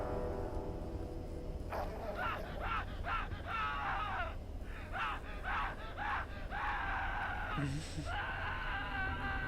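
A person screams and wails repeatedly in the Aliens: Colonial Marines video game, in strained, moaning cries over a constant low background rumble, ending with a sharp higher cry.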